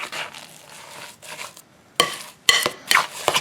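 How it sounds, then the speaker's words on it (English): A spoon stirs a thick snow cream mixture in a bowl, with soft scraping at first, then a few sharp clinks and scrapes against the bowl in close, irregular strokes. "Just going to keep stirring this."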